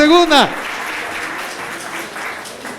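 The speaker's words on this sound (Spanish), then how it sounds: "denle un aplauso" Audience applause in a classroom-style religious quiz session, a steady wash of clapping that follows a brief high voice at the start and continues fairly evenly to the end.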